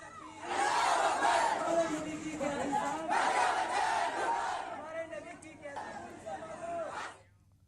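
A rioting crowd in a street in Saharanpur after prayers, clashing with police and throwing stones, roars and shouts in three loud surging waves, many voices chanting and yelling together before fading out.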